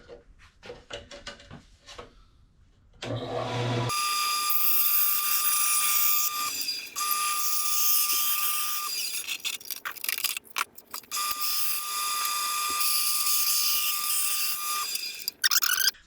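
A wooden headstock veneer for an Explorer guitar kit is being cut out: a few soft clicks, then a loud, sustained whining saw-like hiss that stops and restarts in long bursts.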